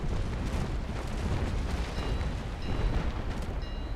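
Sailing warships trade cannon fire in Naval Action, a Trincomalee against a St. Pavel, heard as a dense, continuous rumble of booms and bursts over four seconds with no talk.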